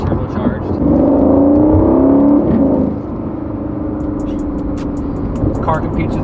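Turbocharged V8 of a 2019 Aston Martin Vantage finished in White Stone, a loud, steady engine drone that rises in pitch under acceleration, then eases to a lower, sustained hum inside the cabin.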